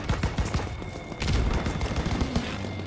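Gunfire directed at the player in Call of Duty WWII, Operation Cobra: rapid, dense bursts of shots crackling at mid distance, steady and loud, with no talk over it.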